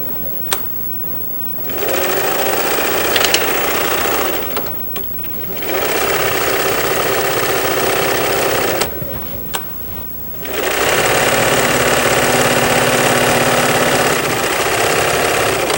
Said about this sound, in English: This is a good time to use your overcasting stitches on your machine